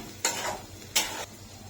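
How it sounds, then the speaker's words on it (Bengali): Spice paste of ground dried chili with ginger and garlic frying in a pan, with two distinct scraping stir strokes over a soft, steady sizzle and no talking. "তো আমি মশলাগুলোকে ভালোভাবে কষিয়ে নিব"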